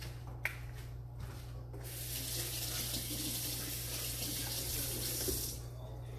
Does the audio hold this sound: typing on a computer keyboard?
no